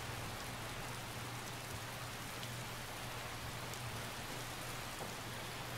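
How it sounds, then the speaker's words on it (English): Steady rainfall in the Skyrim video game, a dense, even hiss of drops on surfaces that stays constant and fairly quiet throughout, with a low hum beneath it and no voices. "And it's still raining."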